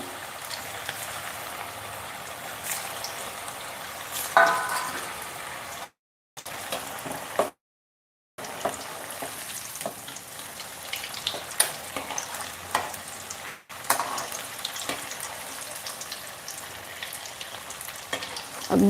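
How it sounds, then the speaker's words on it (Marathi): Veg cutlets deep-frying in hot oil, a steady crackling sizzle like light rain, close and fairly even, briefly cut to silence twice, with no talk. "तेल अगदी छान तापलं आहे तर हे कटलेट सोडून घेऊया"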